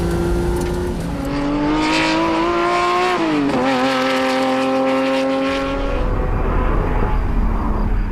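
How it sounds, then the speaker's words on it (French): A car on a reconnaissance lap of the Dijon-Prenois circuit, the engine loud and close as it revs up through several gears with rising and falling pitch, then eases off near the end. "on part pour un premier tour de reconnaissance"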